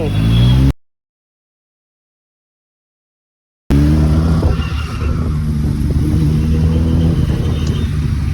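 A Yamaha Ténéré motorcycle on M G Road in Bengaluru rumbles steadily close by, a continuous loud engine drone broken by a short silent gap, with traffic noise around it.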